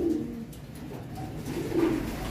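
Soft coos from a Van den Bulck bloodline racing pigeon, a low throaty call near the start and another toward the end, over faint background noise.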